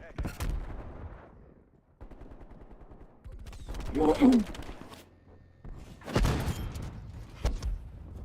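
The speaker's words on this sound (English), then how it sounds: "Hostile sentry turret." A hostile sentry turret in Call of Duty Black Ops Cold War Zombies Outbreak fires several sharp bursts of automatic gunfire with short gaps between them, loud and close, with game effects and a voice mixed in.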